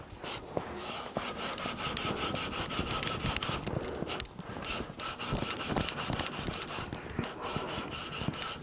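Blow down valve being lapped by hand with fine lapping paste, a steady gritty rubbing and scraping in repeated back-and-forth strokes, close and quiet, with no talking.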